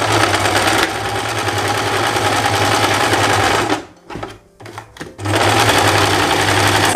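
A sewing machine stitches the front crotch seam of pantacourt trousers in fast, loud, continuous bursts, pausing briefly before resuming at full speed.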